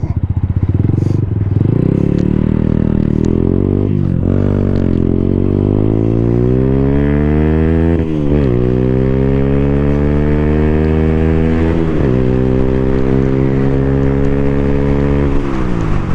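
A 2024 Freedom Fighter 200 EFI motorcycle accelerates hard through its first gears, the engine note climbing in repeated rising sweeps with brief dips at each shift, loud and close throughout.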